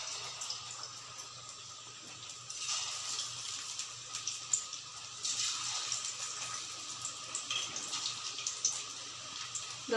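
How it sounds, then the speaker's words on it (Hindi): Spinach pakora fritters frying in hot oil, a faint, steady hiss with soft crackling bursts that rise and fall and a low hum underneath. "अब हम भजिया फ्राई करते हैं"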